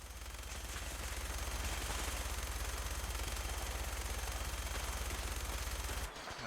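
Minigun in Fallout 4 roaring in one long continuous burst of rapid, evenly spaced shots, loud and close, cutting off abruptly near the end.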